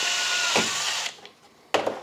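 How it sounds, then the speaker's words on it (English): A power drill bores through the first layer of a plastic battery tray to make mounting holes for a LiBCM lithium battery module, a steady high whine for about a second, a pause, then a short second burst, with no talk. "once you start that hole, you can remove LiBCM and just drill through. We only need to drill through the first layer of plastic"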